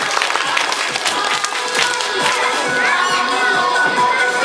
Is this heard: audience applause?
yes